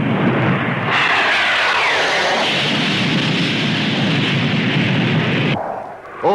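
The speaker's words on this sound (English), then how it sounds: "A twinkle roll, a new maneuver by scimitar jets" Scimitar naval jets flying formation aerobatics at the Farnborough air show: a loud, continuous roaring jet engine rush that swells in and cuts off abruptly near the end.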